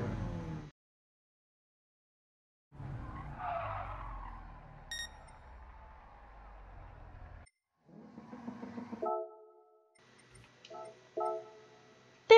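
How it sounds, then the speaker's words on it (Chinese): A car in Gran Turismo Sport brakes hard, its tires skidding and squealing in scrubbing bursts separated by brief silences. Faint ticking follows near the end, and the sound is moderate and close, with no voices. "就踩死刹车到底"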